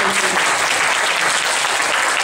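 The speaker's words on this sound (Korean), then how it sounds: "우리 개인의 간증도 하나님께 한번 박수로 영광 올렸습니다." Congregation at a church testimony service applauding to give glory to God, a dense, steady burst of clapping from a full room, sustained and even throughout without pause.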